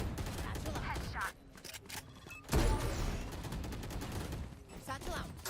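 Gunfire in the shooter game Valorant, with bursts of rapid shots and a loud impact midway, mixed with game effects and mechanical clicks.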